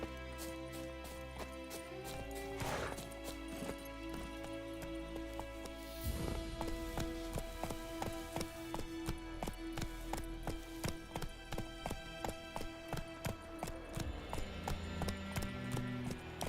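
Horse hooves in The Witcher 3 game, clip-clopping as the horse starts up and then breaks into a steady rhythmic gallop, loud and continuous over game music.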